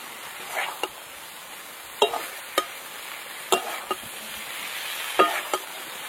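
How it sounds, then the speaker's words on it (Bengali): Fried turmeric cauliflower goes into a pan of chicken curry, giving a soft background sizzle punctuated by several sharp clinks and scrapes of stirring. "ভেজে রাখা হলুদ ফুলকপি দিয়ে দিলাম।"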